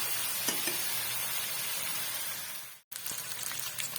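Garlic and ginger fry in a pan for a fish curry, making a continuous close sizzle with a few stirring scrapes. The sound cuts out briefly near the end and then resumes.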